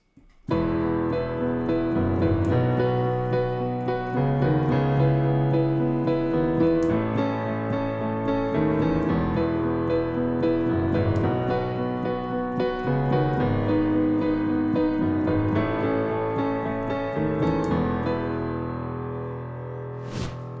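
Piano plays the bright, rhythmic intro of a song, with steady repeated chords and a melody on top, continuous and loud, easing off slightly at the end.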